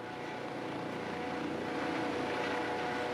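A rescue helicopter hovering over a cave rescue site sends a steady, droning rotor and engine hum through the whole moment, fairly distant and constant, with no voices.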